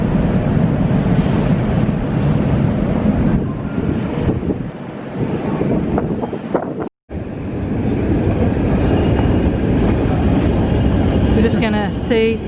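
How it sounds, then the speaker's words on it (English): A long escalator ride up from the world's deepest metro station in Kyiv gives a steady loud mechanical rumble and hiss throughout, with a brief cutout midway and faint higher rattles near the end. "We're going to go up the escalator, and apparently it takes a few minutes to get up to the top"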